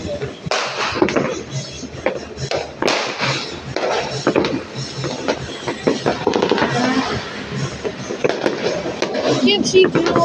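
New Year's fireworks crackle and bang in a dense, irregular barrage of sharp pops and booms, fairly close, with people talking throughout.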